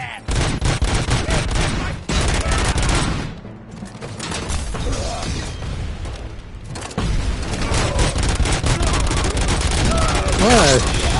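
Rapid bursts of gunfire from a firefight in the video game RoboCop: Rogue City, loud dense volleys with booming impacts, a short quieter gap, then more shooting under occasional speech.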